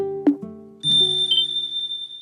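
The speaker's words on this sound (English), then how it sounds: "There's a bell again!" A bell rings in the video game Trails in the Sky SC, a couple of struck tones followed by a long bright sustained ring that fades slowly.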